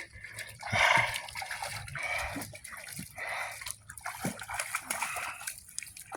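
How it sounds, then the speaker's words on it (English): Water splashes and drips close by as a rock from a creek rock bed is rinsed off. Bursts of splashing and sloshing come in uneven waves, with trickling between them. "Let's walk over here and wash it off real quick."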